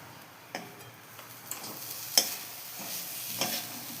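Sweet jaggery filling frying in a pan while being stirred, a soft continuous sizzle broken by several distinct scraping knocks of the spoon at irregular intervals, close by and without speech.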